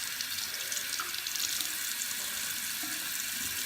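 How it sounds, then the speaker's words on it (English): Tap water runs steadily into a sink, rinsing a makeup brush held under the stream, a constant close hiss of flowing water with no voices. "I'm just gonna give this a bit of a rinse out"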